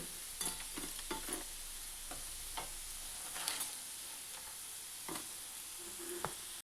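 Paneer pieces frying in oil in a pan, a continuous quiet hiss broken by irregular stirring clatters and spatters, with no voices.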